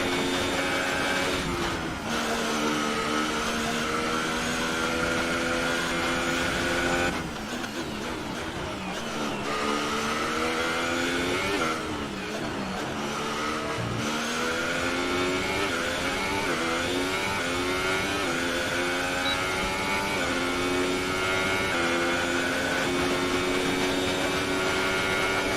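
Formula 1 race car engines howl in F1 2018 at Silverstone, a loud, continuous high-pitched whine that rises and falls through gear changes as several cars run close together.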